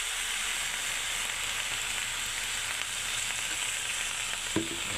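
Shredded cabbage sautéing in a hot pan, a steady loud sizzle running throughout with a single soft clink of a utensil near the end.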